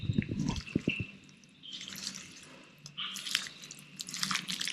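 Wet squishing and dripping as hands knead chicken with marinade for bamboo chicken, a soft, close, irregular squelching with brief quieter gaps and no talk.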